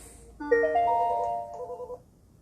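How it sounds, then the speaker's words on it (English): A telephone rings alone in a quiet room, a single steady electronic tone lasting about a second and a half, then a brief stuttering tail before it cuts off. "And the phone rings."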